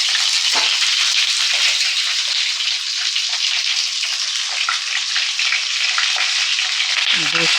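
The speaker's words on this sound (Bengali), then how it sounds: "তেল দিয়ে আমি পটলগুলো ভেজে নেব।" Pointed gourd (potol) frying in hot oil in a wok gives a loud, steady, crackling sizzle that holds for several seconds, with brief stirring or clattering sounds near the start and end.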